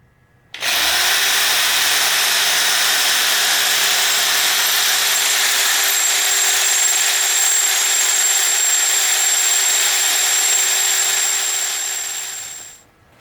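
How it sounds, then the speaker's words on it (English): A power drill with a 3/8 inch bit bores into a jack stand, a loud steady whine that starts abruptly, holds a constant pitch for about twelve seconds, then winds down to a stop. "I took a 3/8 inch drill bit."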